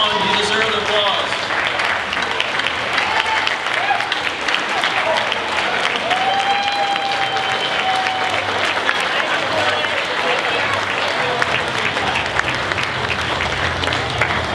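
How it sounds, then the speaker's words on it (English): Sustained audience applause at a volunteer fire department's 50th anniversary awards ceremony, dense steady clapping from a large indoor crowd with occasional whoops, filling the room without a break. "come on, you deserve the applause"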